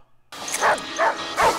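A dog in a scene from the 2000 film Final Destination gives three distinct barks with short gaps between them, loud and close, following a brief silence.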